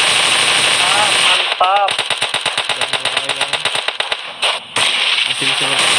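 Automatic gunfire in PUBG Mobile on the Miramar map during an esports event: a rapid, evenly spaced string of loud shots rattles for a few seconds, then breaks off. An excited commentator talks over it.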